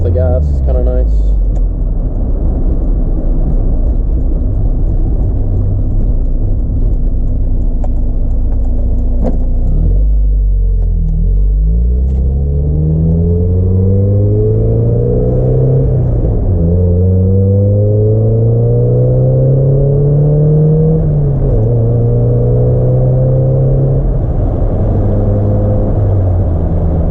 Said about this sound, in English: it's got a little bit of a popping noise to it now when you let off the gas